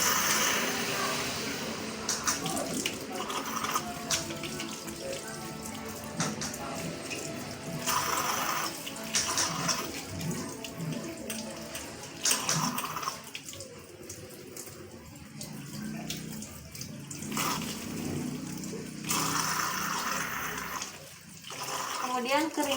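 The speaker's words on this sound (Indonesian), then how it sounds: "saya akan mencuci tangan 6 langkah di bawah air mengalir" Tap water runs steadily into a sink during six-step handwashing, with a person talking over the constant splashing.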